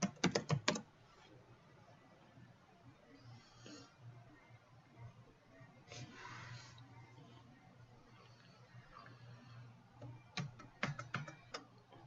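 Typing an administrator name and password on a computer keyboard: quick bursts of close key clicks at the start and end, with quieter stretches and faint background noise between.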